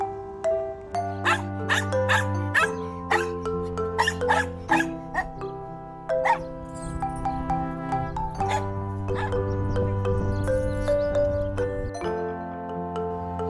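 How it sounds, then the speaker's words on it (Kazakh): A dog barks in several sharp, repeated yaps over a steady musical backing, part of a children's lesson on animal sounds; a voice may briefly speak alongside. "Собака"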